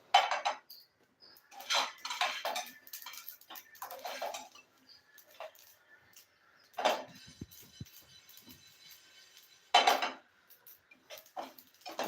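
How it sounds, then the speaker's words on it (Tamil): White sesame seeds dry-roasting on low heat in a pan while making curry leaf powder, with scattered bursts of crackling pops and spatters separated by quieter stretches. "எள்ளு நல்லா சிம்மில் தான் வச்சுருக்கேன் ஆனால் இருந்தாலும் தெரிக்குது"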